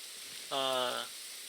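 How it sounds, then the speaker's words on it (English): Rain in a video game comes through as a steady hiss, with a short buzzy tonal sound rising briefly over it in the middle. "Looks like it's raining now."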